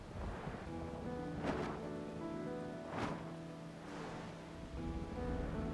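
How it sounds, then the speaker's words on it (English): Steady rain falls in the Final Fantasy XIV Dawntrail video game, a constant hiss with a few louder swells of gusting or thunder-like rumble, heard on its own without talk. "Plus the constant rain is a little depressing too."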